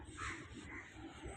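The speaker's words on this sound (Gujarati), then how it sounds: "પક્ષીઓનો અવાજ" Crows cawing outdoors beside a river under trees near a temple, a faint, distant, continuous chorus of harsh calls over a low background hum, with no voices.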